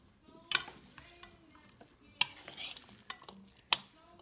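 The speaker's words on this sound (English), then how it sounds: "now I'm gonna give this a quick mix here" A spoon stirs a couscous salad mixture in a bowl, giving soft scraping and rustling with three sharp clicks against the side, quiet and close.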